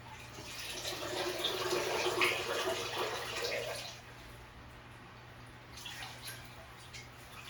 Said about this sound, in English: So I am just gonna rinse it out